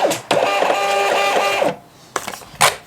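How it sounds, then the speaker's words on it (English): A thermal printer prints a shipping label with a steady, loud mechanical buzzing whir lasting about a second and a half, followed by a short pause and a few brief clicks and rustles as the label comes out. "And then I just print the label to my thermal printer."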